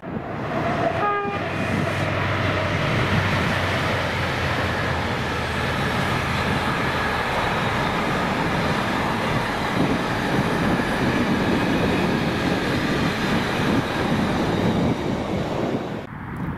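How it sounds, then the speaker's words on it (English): Freight train 4Z51 running from Blackford Freight Terminal to Mossend in Scotland, hauling a heavy load behind locomotives 68008 and 68006, passes close by as a loud continuous rumble with a brief horn blast near the start. "seen here on its return working being 4Z51, the 1314 Blackford Freight Terminal to Mossend with quite an impressive load"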